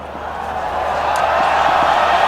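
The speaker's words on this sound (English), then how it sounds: "Applause from the crowd, starting to feel like the team's still in this game." Steady crowd applause and murmur at a Pakistan v England T20 cricket match, a broad, continuous wash of clapping that swells slightly and holds at a fairly loud level throughout.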